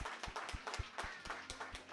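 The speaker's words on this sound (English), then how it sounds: "Let's give the Most High a round of applause" A congregation at a Shabbat service claps in irregular, fairly faint applause. The claps are spread out, close to one another in time, and sound somewhat distant.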